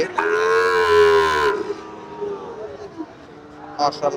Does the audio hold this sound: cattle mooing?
yes